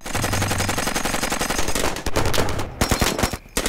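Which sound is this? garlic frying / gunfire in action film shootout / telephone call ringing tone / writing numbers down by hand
gunfire in action film shootout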